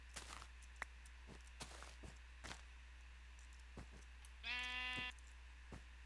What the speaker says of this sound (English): What, you're a lone sheep?